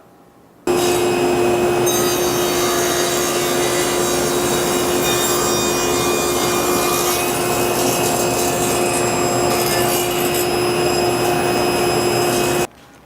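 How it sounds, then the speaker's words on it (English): Table saw running steadily with a crosscut sled, squaring the edges of wooden cutting-board stock in a workshop; a loud continuous motor whine with cutting noise runs for about twelve seconds, starting and stopping abruptly. "We're going to go over to the table saw and the sled"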